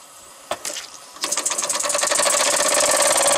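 A small model steam engine with an alcohol burner clicks a couple of times, then starts up into a rapid, steady mechanical chugging that quickly builds and keeps running loudly.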